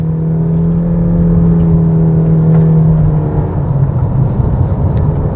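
Engine of a 2020 Honda CR-V accelerating up a hillside, a loud steady in-cabin hum with a droning tone that fades into road rumble, with no talk.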